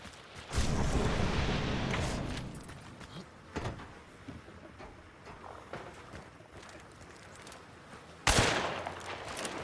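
Gunfire from the Hunt: Showdown 1896 video game on PS5: a loud shot opens a stretch of rumbling noise, then a single sharp crack in the middle and another loud blast near the end.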